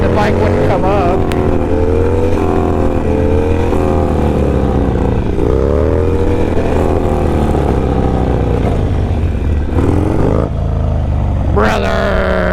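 A Harley motorcycle engine revving hard during a wheelie in a parking lot, loud and close, its pitch climbing and falling through repeated throttle blips, with a rider's voice shouting over it.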